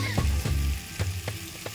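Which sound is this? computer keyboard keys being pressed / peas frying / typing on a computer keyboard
peas frying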